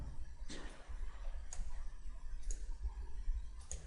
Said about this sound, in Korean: 기준점 클릭